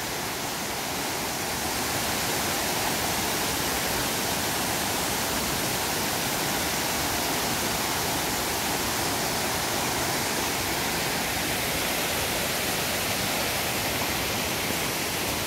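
Water runs steadily around a fish pond at a rural eco-village retreat, where ducks swim. It is a continuous broadband rush like a small waterfall or stream, loud and even throughout, with no talking.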